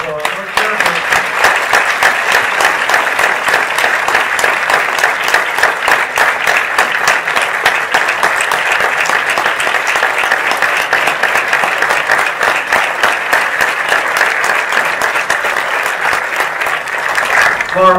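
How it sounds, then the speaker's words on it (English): Conference audience applauding the association chairman, a long, steady burst of dense clapping filling the room at close range, holding even throughout before easing near the end. "Let's give her another round of applause"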